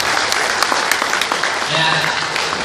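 Audience applause at an MMM 2015 gathering in Palembang, a dense continuous clatter of clapping from a crowd, with voices faintly under it.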